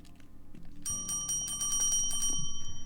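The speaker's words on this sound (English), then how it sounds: "No need to use the bell. I'm right here." Bright metallic dings of an inn's front-desk bell in a video game, struck rapidly again and again in a steady ringing run over quiet background music.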